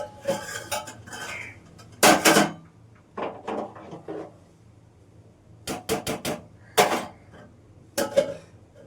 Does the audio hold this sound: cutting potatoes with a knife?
yes